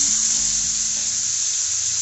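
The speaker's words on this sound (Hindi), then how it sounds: "10 से 12 काली मिर्ची और थोड़ा सा जीरा, ये डाल के और ये सारे मसाले जो है वो इसमें डाल देंगे।" Whole spices, bay leaves, black pepper and cumin sizzle in hot oil with a loud, steady hiss and a low hum beneath it, heard alone and up close.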